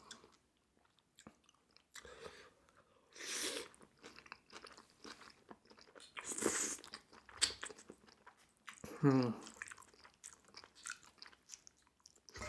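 Someone eating spicy Korean cold noodles (bibim naengmyeon) with cucumber, close up, with wet slurping and crunchy chewing bursts in irregular clusters between quieter pauses, and no talking.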